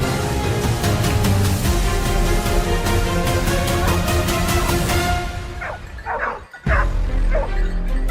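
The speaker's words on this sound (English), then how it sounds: "the sound of barking from deep within the forest signaled that the target was charging right toward him" Dogs bark in rapid repeated bursts during a wild boar hunt in a California forest, loud and close, then break into yips and whimpers before a sharp crash-like thump.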